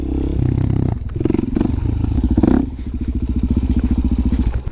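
A Suzuki DRZ supermoto rides a street, its single-cylinder engine loud and close with a steady pulsing exhaust beat, a brief rev swell around the middle, then settling into a rhythmic throbbing cruise.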